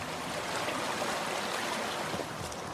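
A river feeding a drinking-water reservoir above a pond flows steadily, a dense, even rush of water close by with no voices.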